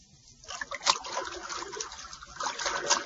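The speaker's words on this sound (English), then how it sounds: "It's water, Bucky." Water pouring into a room in a radio drama, a steady splashing trickle that swells into a fuller rushing flow, continuous and moderately loud, with no voices over it.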